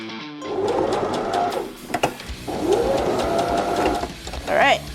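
Sewing machine stitching a sleeve, two steady whirring runs separated by a brief pause, close and fairly loud, with a voice speaking lightly over it.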